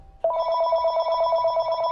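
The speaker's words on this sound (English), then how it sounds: "But when the phone rang in May of 2013" A telephone starts ringing abruptly and keeps up a steady, loud electronic trill with a fast warble, heard up close with no voices.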